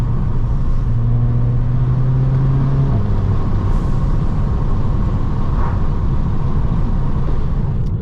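A 280 BHP Volkswagen Scirocco accelerates hard, its engine note climbing steadily through a gear before a brief shift dip and another loud, sustained pull, heard from inside the cabin with constant road rumble.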